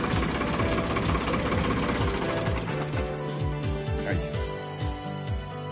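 A car engine is started with a portable jump starter connected to the battery. Rapid rhythmic cranking pulses quickly turn into a running engine that settles into a steady idle, with a person speaking over it.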